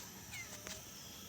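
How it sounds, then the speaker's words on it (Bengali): A village cat gives a short, faint meow that is quick and distant, set against quiet outdoor background noise. "এই যে বিড়াল"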